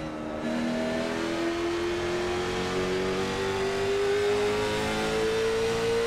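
Race car engines at Martinsville in the iRacing game, Cars Tour fixed setup, drone in a steady, loud, continuous roar whose pitch climbs slowly as the cars accelerate, with no voices.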